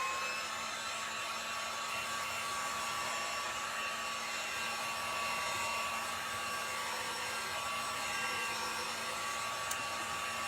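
Hair dryer blowing on wet paint on a hop-sign door hanger, a loud steady whirring hum with a constant tone, close and continuous for the whole stretch, no talking.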